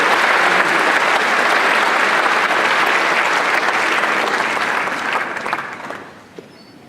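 Loud, dense applause from a large audience honoring religious leaders at a 2017 city inauguration ceremony in Aurora; sustained clapping that thins out and fades near the end, leaving a few last claps.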